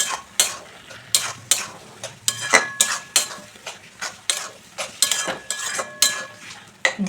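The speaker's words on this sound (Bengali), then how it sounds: "আবারও সব কিছু ভালো করে একটু মিশিয়ে নিচ্ছি।" Taro leaf curry is stirred together with grated coconut in a pot, making a rapid series of metal spoon scrapes and clinks against the pan over a faint sizzle, close and rhythmic, with no talking.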